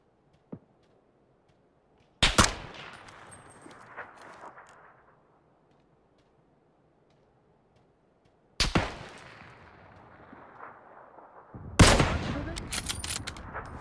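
Gunfire in PUBG on the Sanhok map: three sharp, loud rifle cracks spaced several seconds apart, each with a trailing echo, the last followed by a rattle of further shots.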